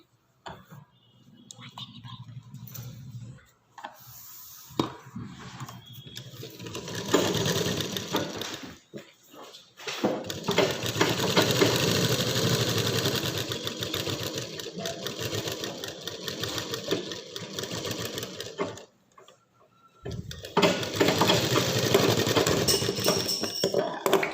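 A sewing machine stitches in long continuous bursts, running for several seconds at a time with short pauses between runs, loud and close, while a person speaks quietly over it.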